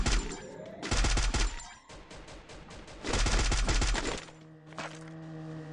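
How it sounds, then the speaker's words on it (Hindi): Loud automatic gunfire in a battle royale game, two long close-range volleys of rapid shots separated by quieter scattered fire, then a sustained electronic tone. "एक एक गोली का मार रहा है भाई उसको मारो नीचे"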